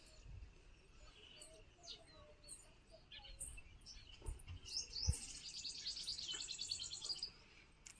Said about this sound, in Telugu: చూసిరా పక్షులు ఎంత బాగా ఆహరిస్తున్నాయో